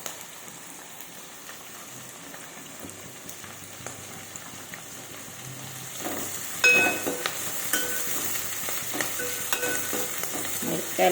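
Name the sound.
onion, spring onion and chillies frying in a pan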